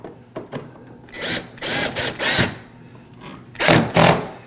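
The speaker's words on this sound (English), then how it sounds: "So now I take and put this screw in" A power tool drives a screw into a bracket while Baker Built Airwings are installed on a Spyder, whirring in several short bursts with pauses between, close and fairly loud, no talking.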